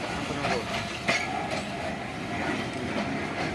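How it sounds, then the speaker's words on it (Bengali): A big train rolls along railway tracks in open countryside, making a continuous rumbling clatter of wheels that holds steady throughout, with faint voices nearby. "এই যে বড় ট্রেন"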